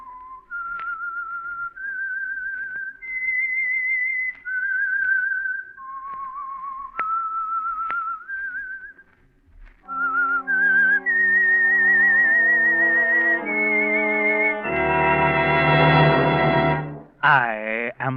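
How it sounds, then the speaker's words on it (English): A lone human whistler performs a radio mystery show's eerie theme tune, slow sustained notes stepping up and down, later joined by an orchestra with swelling chords and a sharp closing flourish. "That whistle is your signal for the Signal Oil Program,"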